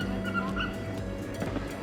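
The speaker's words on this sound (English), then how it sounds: "You hear my dog, that's Molly crying." A dog whimpers and cries at a campsite in Greece while left outside a motorhome, faint thin whines drifting over steady low ambient hum, fairly distant and intermittent.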